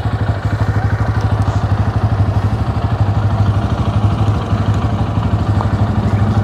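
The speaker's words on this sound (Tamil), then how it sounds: "ஸோ அப்படியே வண்டியோட எக்ஸாஸ்ட் நோட்டை கேட்டுருங்க." Exhaust note of a 2024 Bajaj Pulsar N160 motorcycle idling nearby: a steady, loud, thumping low putter with even rapid pulses and some mechanical clatter, running alone with no voices.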